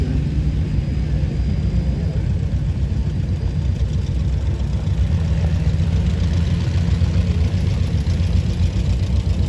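John Deere 4320 and other tractors rolling past in a tractor parade in Caledonia, NY, a steady loud diesel engine drone with low rumble throughout and no break.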